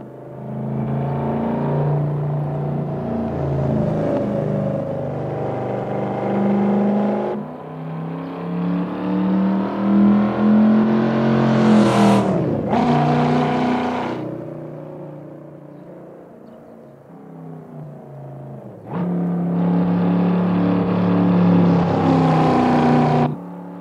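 Outside, a 2002 Chevrolet Camaro SS engine idles loudly and revs repeatedly, with a sharp rising blip in the middle and a steady burbling idle returning near the end, heard alone and close.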